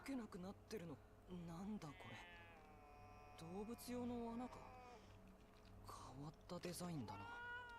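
A distorted, eerie cat from a horror video game caterwauls in long, wavering wails that rise and fall over a low droning backdrop, loud and close, with a few brief vocal bursts mixed in.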